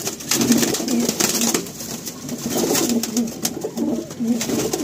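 Pigeons coo repeatedly in a loft full of birds, with soft rhythmic low calls close by over a background of rustling and faint activity.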